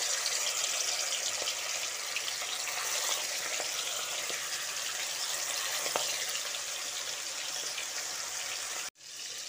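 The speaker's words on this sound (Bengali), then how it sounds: "গরম তেলের মধ্যে একে একে ছেড়ে দিচ্ছি।" Chicken pieces fry in hot oil over a high gas flame, giving a loud, steady, hissing sizzle that holds at an even level and cuts off abruptly near the end.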